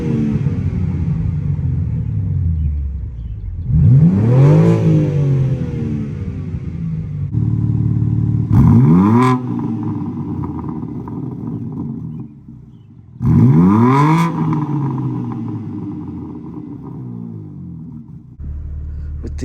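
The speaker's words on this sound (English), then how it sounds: "And give it a few revs with the valves open." A BMW G80 M3 Competition with its exhaust valves open revs three times, each loud, rising blip falling back to a rumbling idle, with no talking over it.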